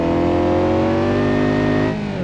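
A Ferrari Roma sports car engine revs hard in the BeamNG.Drive driving game, a loud, close, continuous roar with climbing harmonic pitch that eases slightly near the end.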